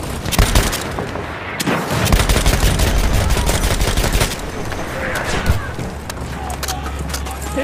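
Enemy machine gun fire in the World War I shooter Battlefield 1: sustained rapid shots rattle over dense battle noise, with heavy low booms of explosions and artillery rumbling underneath and a sharp close burst near the start.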